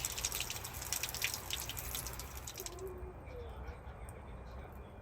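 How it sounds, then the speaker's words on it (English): Water draining out of an outdoor hose bibb spout after the line is opened for winterizing: a faint trickling and dripping flow over a steady low hum, with a faint hiss early that falls away partway through. "we're going to open up the spout, and then we're going to come back down here to empty out the line"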